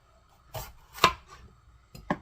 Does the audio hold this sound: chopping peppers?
yes